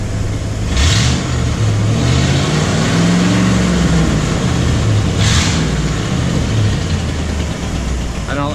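Ford Bronco engine running steadily after a cold start, following about a year of sitting, with a loud, close, continuous idle and a couple of brief rises in revs.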